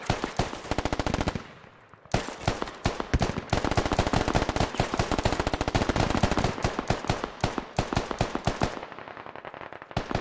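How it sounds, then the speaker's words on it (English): A 50 caliber Kord heavy machine gun fires in the video game Arma, unleashing long, loud, rapid bursts of heavy rounds with a brief pause, then continuing steadily. "the heavy gun is right on target with the 50 caliber cord machine gun, right on target"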